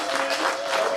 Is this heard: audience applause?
yes